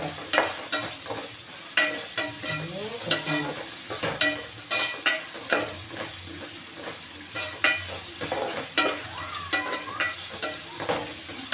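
Food sautés in a pan on a home stove, with steady frying sizzle under frequent scraping and stirring strokes from a utensil, close and continuous, with no talking.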